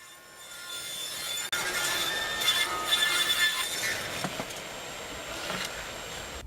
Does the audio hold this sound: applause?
no